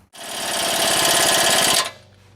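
An impact wrench tightens a nut on a Saab rear brake caliper: one loud rattling hammering burst lasting under two seconds, starting abruptly and cutting off sharply, then quiet.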